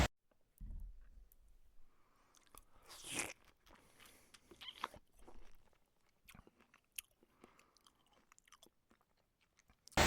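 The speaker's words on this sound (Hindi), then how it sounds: "Take first bite." Someone bites and chews food served in a ceramic bowl, with close, crisp crunching and clicking bites in irregular bursts over a quiet background and a sharp knock at the very end.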